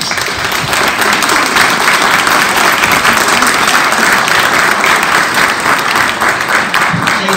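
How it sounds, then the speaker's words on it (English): A conference audience gives a big, sustained round of applause for Cindy Adams Dunn, Pennsylvania DCNR Secretary, dense steady clapping filling the hall throughout. "Give Cindy a big round of applause."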